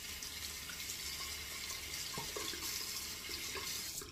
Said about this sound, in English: Take it, run it under the water.